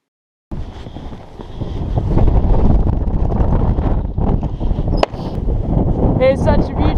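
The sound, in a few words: wind blowing over hilltop at Cheddar Gorge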